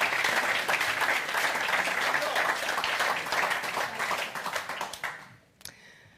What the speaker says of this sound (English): I think that gets a round of applause